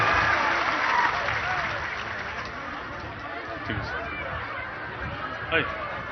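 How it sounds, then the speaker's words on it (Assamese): Audience applause at a political gathering in a village in Hojai, Assam, a steady wash of clapping that is loudest at the start and slowly thins, mixed with crowd chatter and a sharp clap-like burst near the end. "সকলোৱে আৰু জোৰে হাত চাপৰিতে দিবৰ কাৰণে অনুৰোধ জনাইছো।"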